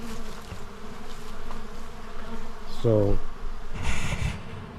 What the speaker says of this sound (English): So that's how you can tell these are robber bees.